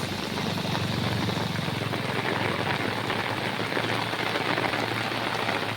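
Torrential downpour over Hyderabad streets, a thick continuous wash of rain striking surfaces close by, loud and even from start to finish, with a low rumbling undertone and no talking.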